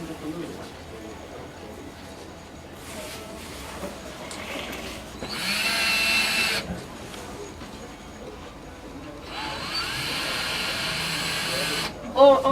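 A power drill drives a small anchor or screw into plain drywall in two whirring bursts, a short one and then a longer steady run, fairly close, with quieter handling noise between.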